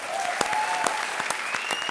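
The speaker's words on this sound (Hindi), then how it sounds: "जोरदार तालियां।" Studio audience applause on a televised comedy show, a steady burst of clapping heard clearly for about two seconds with no talk over it.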